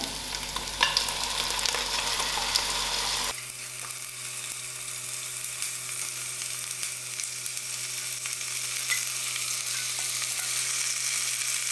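Lamb and onions sizzle steadily in a pot for a hearty stew, a dense, close frying hiss that grows thinner and brighter after a few seconds as the meat settles into the hot fat.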